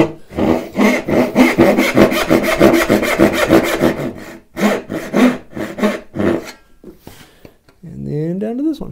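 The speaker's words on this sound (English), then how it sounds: "we can just cut straight down that vertical line that we just laid in" Hand saw cutting wooden dovetails for a flower box, close and loud rhythmic rasping strokes in quick bursts with short pauses, ending in a voice speaking.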